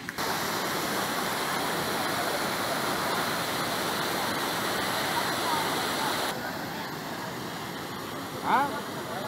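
A stream in northern Vietnam rushes steadily with a dense, loud broadband roar, continuous throughout and slightly quieter near the end, with a voice speaking over it.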